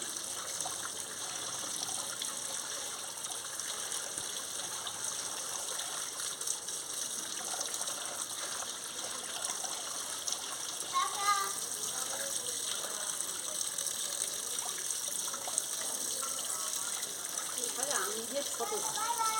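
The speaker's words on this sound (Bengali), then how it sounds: "দেখুন আমি ভালো করে ধুয়ে নিচ্ছি" Chopped cabbage washed under a running tap, a steady gushing trickle of water over the leaves with light splashing and sloshing throughout, faint room noise behind.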